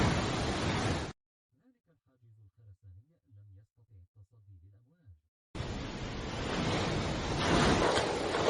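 Ocean waves slam against a concrete barrier in a loud roar of surf and spray, cut off for several seconds by a calm voice speaking, then crashing back in with heavy, churning noise.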